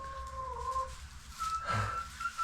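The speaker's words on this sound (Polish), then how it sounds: "To jest kogut." Rooster and hens inside a chicken coop, with soft clucks and a short crowing-like call rising midway, fairly close, over low rustling.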